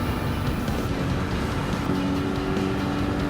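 McLaren race cars in a racing video game roar down a long straightaway, a steady dense engine drone with no talk over it.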